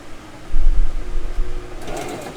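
A sewing machine stitches fabric together in a close, steady mechanical whir with a low motor hum, running continuously through the short clip.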